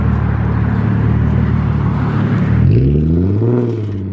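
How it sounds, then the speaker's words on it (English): An E85-tuned Nissan 370Z makes a pass, its engine roaring loud and close as it revs hard, then the pitch dips and climbs again with a gear change. "Car's tuned, he's just gonna go do a little pass, make sure everything looks good."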